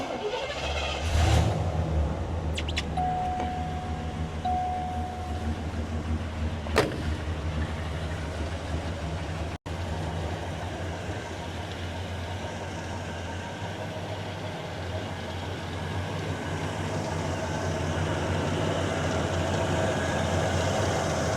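A 1979 Cadillac Coupe DeVille with a 429 cubic inch 7-liter V8 and 3-speed automatic fires up, then settles into a steady, close, low idle rumble that holds for about twenty seconds with no talking.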